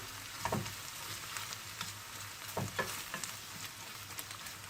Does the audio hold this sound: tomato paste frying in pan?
yes